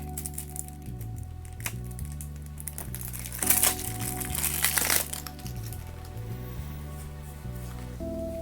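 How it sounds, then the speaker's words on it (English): Shrink-wrap on a deck of Arena The Contest cards crinkles and crackles in short bursts, loudest midway, over a steady low musical background. "I'm opening the second deck of cards now."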